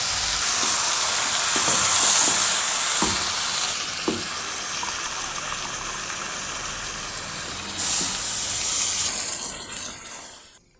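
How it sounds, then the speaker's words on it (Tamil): A paste of ground coconut, green chilli, pepper, fennel and cashew hits a hot pan for a tomato kurma, giving a steady broadband sizzle with a few soft knocks and stirring clatters, fading near the end. "அரைச்ச விழுத இதில் ஆட் பண்ணுறேன்"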